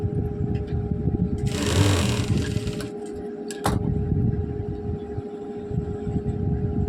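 A sewing machine stitches blouse fabric in a straight seam, a close, steady whirring run that surges briefly louder, with a sharp click partway through and no talking.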